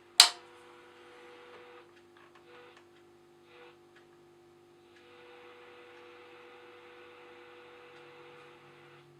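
A modulated test tone comes from an LM13 frequency meter set near 4 MHz, a faint steady electronic hum with soft ticking, opening with a sharp click, the tone thickening partway through.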